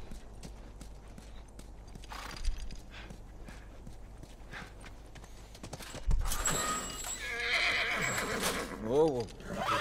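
In The Last of Us Remastered, a horse snorts and gives a loud, wavering whinny near the end, with a few hoof clops and soft scuffs beforehand and people talking quietly.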